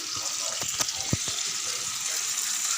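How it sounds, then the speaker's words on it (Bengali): Curry frying in a pan gives a steady sizzle under the soft clatter of stirring, with a few sharp knocks of a utensil against the pan. "তরকারিটা রান্না করে নিই।"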